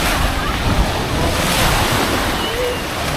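Broad, steady rush of surf and wind on a beach at Sattahip, Chonburi, Thailand, a continuous wash of breaking waves with gusty noise on the microphone.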